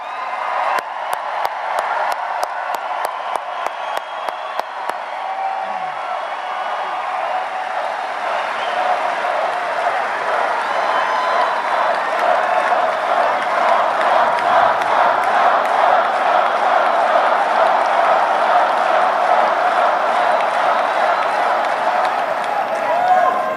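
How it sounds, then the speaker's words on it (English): Sustained applause from a large political rally crowd in Estero, Florida, steady and loud throughout, with a few sharp individual claps standing out near the start. "Let's give a big round of applause for your president."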